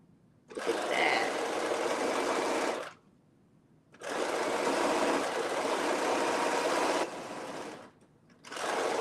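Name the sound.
sewing machine running with hemming foot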